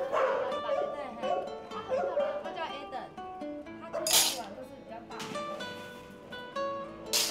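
Golden retrievers at a rescue shelter bark and yip in bursts, with loud sharp barks standing out, while a person talks over the dogs throughout.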